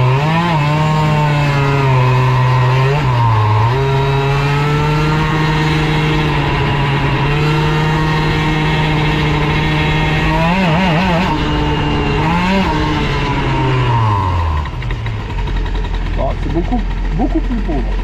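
A Bidalot RF 50 WR model engine runs loud and close throughout running-in and carburettor tuning, holding a steady buzzing drone that wavers and shifts pitch a few times before dipping lower near the end.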